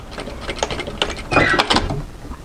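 A domestic sewing machine tack stitches along the curve of a garment armhole, giving short bursts of close, mechanical whirring and clicking that start and stop unevenly, with no talk over it.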